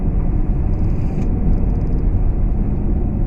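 A 2014 Shelby GT500 taken around corners in sport mode, its engine a steady, loud, low rumble with road noise throughout, plus faint high chirps partway through.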